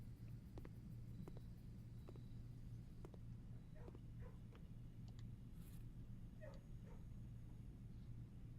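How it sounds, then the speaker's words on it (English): Dogs in the Blue Prince game yip and whimper in scattered short bursts over a steady low hum and rumble, faint and at moderate distance, with voices in the background. "Dogs are noisy over here."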